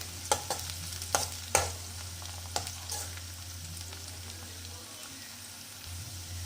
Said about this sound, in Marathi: मिरची टाकूया। ती सुद्धा परतून घेऊया आणि तिला तेलामध्ये थोडं शिजू देऊया